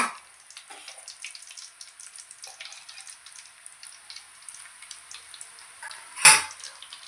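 Rice murukku fry in a pan of hot oil with a steady, fine crackling sizzle, and a brief louder splash or clatter near the end.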